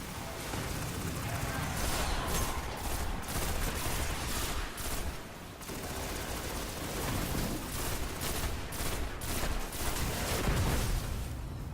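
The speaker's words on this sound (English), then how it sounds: "I'm having some really good luck with this pulse rifle." Continuous rapid bursts of pulse rifle fire in the shooter Destiny, loud dense volleys with brief pauses, mixed with other gunfire and explosions from a firefight against Fallen enemies.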